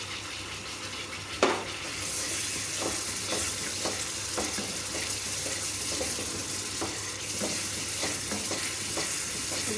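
Black pepper and cumin fry in a kadhai for pakora masala, giving a steady sizzle with occasional stirring scrapes and light clinks throughout, no talking.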